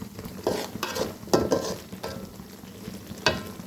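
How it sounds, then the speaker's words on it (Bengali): Food sizzles in a pan seasoned with turmeric, salt and cumin powder while a utensil stirs and scrapes in a few uneven bursts against the metal, close and clear with no talk. "এগুলি ফ্রাই হয়ে আসছে"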